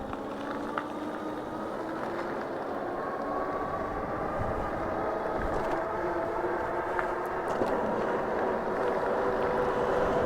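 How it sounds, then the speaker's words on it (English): An old Polarna X 01 bicycle being ridden, giving a steady continuous rolling drone with wind rush throughout, moderately loud and even, with no talking. "the old Polarna still rides and runs pretty good"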